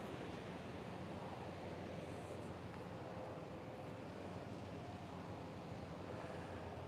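Ocean waves wash onto the shore in a steady, soft surf roar with light wind noise, faint and continuous with no speech.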